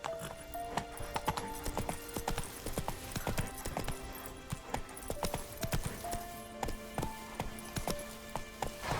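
In The Witcher 3, played on PS5, a horse gallops with rapid, rhythmic clip-clopping hooves, while brief musical tones sound and a whinny breaks through partway.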